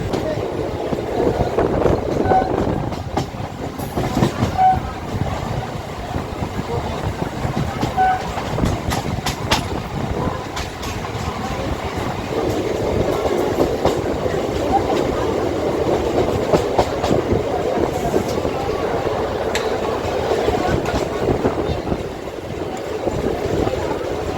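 A Sealdah–Barddhaman local train runs toward Pandua in West Bengal, a loud, continuous rattle and rumble of the carriages with rhythmic clatter over the rails, heard from on board.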